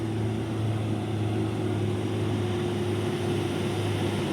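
A constant low engine drone rumbles on unbroken, fitting a fully loaded Hino 500 truck moving slowly on the road.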